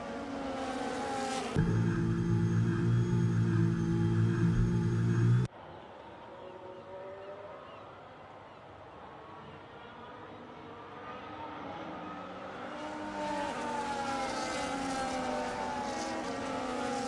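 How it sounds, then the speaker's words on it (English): Engines of F1 race cars in a racing video game at the Baku circuit, a loud sustained buzzing whine for a few seconds, then a quieter, more distant drone of several cars that swells again toward the end. "the safety car is coming in now"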